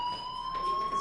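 Fire alarm in the game Life Is Strange ringing with steady high electronic tones, continuous and moderately loud for the whole second, no voices.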